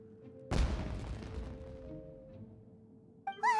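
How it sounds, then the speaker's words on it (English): A single loud firework blast in the game Genshin Impact: one sudden booming burst that rolls away into a long fading rumble, followed by a brief bright musical chime. "Was that an explosion? It sounded like fireworks."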